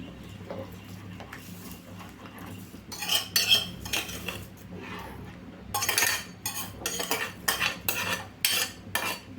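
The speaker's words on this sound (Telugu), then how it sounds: "గోధుమ ఉంది కదండి, కొంచెం కొంచెంగా మీడియం ఫ్లేమ్లో పెట్టుకొని వేసుకుందామండి. కలుపుకుంటూ వేసుకోవాలి." Wheat rava being stirred into a pan over medium flame for upma, heard as loud metal spoon clinks and scrapes against the pan in bursts, with a faint low sizzle underneath.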